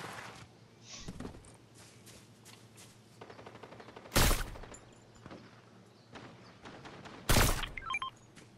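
Two loud, sharp gunshot blasts ring out in Fortnite, a shotgun and sniper exchange in the Mythic Enhanced Infiltrator Pump Shotgun match, spaced a few seconds apart over quieter background game sounds.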